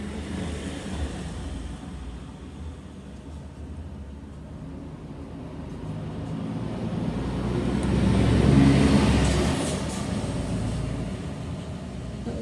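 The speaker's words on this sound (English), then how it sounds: "milk truck." A milk truck drives past through a Yorkshire village, its engine rumble building slowly to a peak and then fading away, with no voices.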